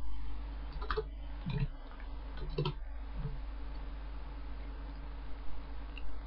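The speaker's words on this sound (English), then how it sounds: "So I'm just going to type that out on my notepad." Keys click on a computer keyboard while typing into a notepad, a short cluster of light taps early on, then quieter, over a constant low electrical hum.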